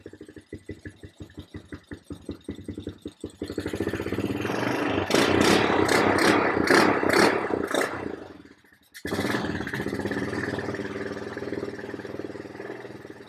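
A quad bike engine, newly tuned at the carburetor for desert off-roading, starts with rapid close sputtering, then revs into a loud sustained roar, dips briefly, and settles back to a steady strong running note.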